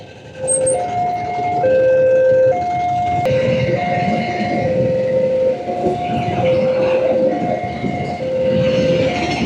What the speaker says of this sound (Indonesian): Nah, ini nungguin kereta api nih.